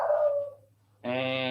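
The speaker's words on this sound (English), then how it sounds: "somebody drove by, so the other dogs barked" Dogs at a farm bark and whimper nearby after a car passes, a short burst of yelping, a pause, then a louder sustained bark.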